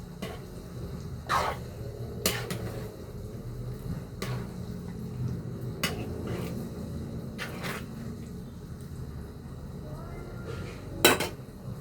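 A lid clanks onto a metal cooking pot of ginataang bilo-bilo simmering with jackfruit, among several close, sharp metallic clinks and knocks over a low background rumble, with the last clank the loudest.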